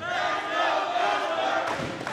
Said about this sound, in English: Let's go Milford is the chant.